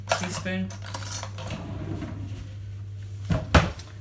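Cutlery clatters close by as a spoon is fetched in a kitchen while preparing a mayo base for beef burgers, with a jangle of metal at the start and two sharper knocks near the end over a low hum.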